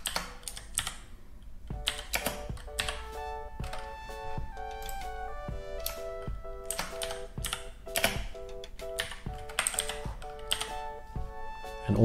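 Rapid keystrokes on a computer keyboard as text is entered into display software, a steady stream of close, crisp clicks throughout, with ringing tonal sounds layered over them.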